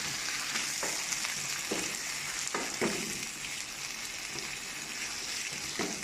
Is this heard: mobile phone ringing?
no